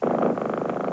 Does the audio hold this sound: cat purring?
yes